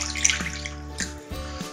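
Boiled water trickles and drips into a bowl of ground spice paste, a few close splashy pours and drips with quiet gaps between, alone without talk.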